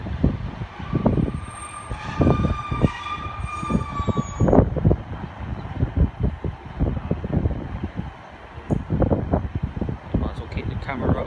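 Train at Weston-super-Mare station on the Great Western Main Line, loud and close with rumbling wheel thumps, a horn-like tone and a siren in the background, while people talk over it throughout.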